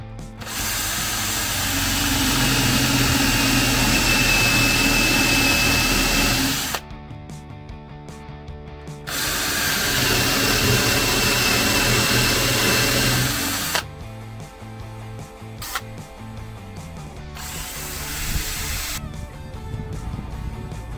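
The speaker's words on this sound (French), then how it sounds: "Je me prépare des trous pour pouvoir fixer les planches latérales." Power drill boring holes through reclaimed pallet wood to fix the side boards of a compost bin, two long loud bursts of drilling separated by quieter pauses with small knocks and handling sounds.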